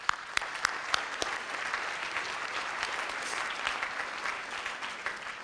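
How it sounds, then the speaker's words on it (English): Audience at a gala speech breaks into sustained applause, dense clapping from a crowd filling the room with a few sharper claps up front. "Let's hear it for Marilyn"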